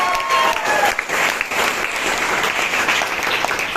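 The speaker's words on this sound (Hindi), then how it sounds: "एक बार जोरदार तालियों से स्वागत है।" Loud, dense audience applause at a motivational speech to a gathering of about 200 people, steady clapping from a close crowd throughout.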